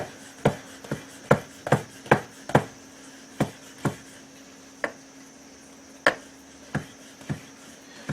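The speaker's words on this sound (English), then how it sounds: "So when I'm chopping here" A kitchen knife chops vegetables on a cutting board for jambalaya, with about a dozen sharp, close knocks in an uneven rhythm, some in quick runs and others spaced apart, and no talking.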